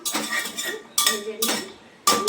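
A spoon stirs a dry chilli tempering with cardamom, cinnamon and cloves in a pressure cooker pot for chana dal, giving three scraping, rattling sweeps with a metallic clink, close and separated by brief pauses.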